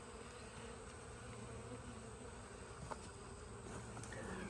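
A dense, continuous drone of honey bees buzzing around an open hive during a frame inspection. It sounds close and steady throughout, with a faint tap or two and no talking.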